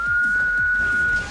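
A person whistles a single sustained, slightly wavering tone close by during a gaming session, held steadily over a low background murmur without speech.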